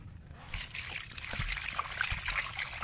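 Water poured onto marinated chicken outdoors on a rainy day, a faint trickling splash under a broad hissing background, with a few low thumps.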